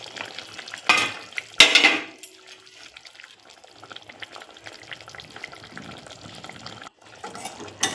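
Fish dropped into boiling curry gravy of potato and small morola fish, with a loud splash and sizzle early on, then stirring and bubbling clatter that fades to a quieter simmer.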